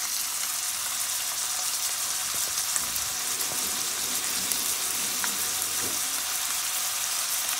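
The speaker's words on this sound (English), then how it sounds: "So now I'm gonna add my ground turkey to the pan with oil." Ground turkey fries in oil in a pan with a steady, dense sizzle throughout, a few soft stirring clicks and scrapes rising briefly in the middle, no voices.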